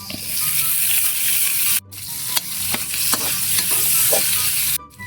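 Garlic sizzles in hot cooking oil as a utensil scrapes and stirs through it, a steady close crackle broken by a few brief pauses, with no talk.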